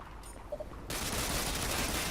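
Enemy gunfire in Ghost Recon Online, quiet at first, then a sudden dense burst of rapid shots that continues steadily to the end.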